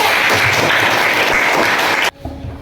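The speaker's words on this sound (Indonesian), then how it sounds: "Kita beri tepuk tangan untuk." Classroom audience applauds a student's presentation: a dense, steady burst of many hands clapping that runs for about two seconds and then cuts off abruptly into quiet room tone.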